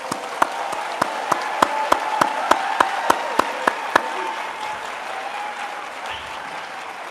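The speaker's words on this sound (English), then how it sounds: "Let's give them a round of applause." Audience applause at a 5th grade school promotion ceremony, with a dozen sharp, evenly spaced claps standing out over a steady wash of clapping that fades after about four seconds into faint room noise.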